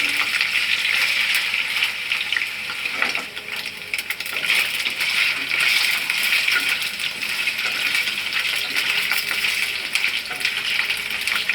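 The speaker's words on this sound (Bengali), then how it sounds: "এইভাবে পনিরগুলোকে আমি একটু হালকা লাল লাল করে ভেজে তুলে নেব।" Paneer pieces frying in a pan until lightly browned, a loud, dense, steady crackling sizzle throughout with faint stirring clicks and no voices.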